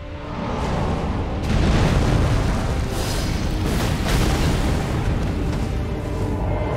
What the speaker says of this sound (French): Waouh, l'explosion l'a fait mal.